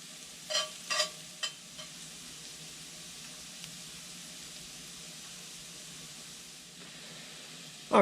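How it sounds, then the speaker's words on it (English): Jalapeño sautéing in a pan on a grill, a soft steady sizzle with a few clinks of a utensil stirring near the start, then a quiet continuous frying hiss. "We're just going to saute this just for a minute or two. Just want to cook that jalapeno down just a little bit."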